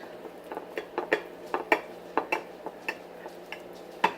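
A utensil cuts a broccoli cheddar frittata into slices inside a skillet, producing a series of light metallic clinks and scrapes in an irregular rhythm, close and fairly quiet with no talk.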